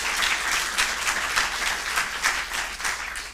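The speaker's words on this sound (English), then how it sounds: "Can we give like a bigger round of applause to the panel?" Audience at an economics conference applauding a panel, a dense, loud wash of clapping from many hands that swells and fades unevenly over a few seconds, with no speech over it.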